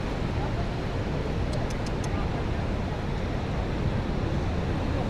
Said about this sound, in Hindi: ये देखो भाई कितना पानी आ रहा है घूम के।